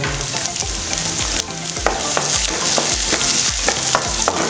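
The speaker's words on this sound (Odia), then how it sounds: "ଏଇଟା ଭାଜିବା ପୁରା ଭଲସେ।" Chicken curry masala frying in a pan, a continuous close sizzle with rhythmic scraping and clinks of a spoon stirring, no talking.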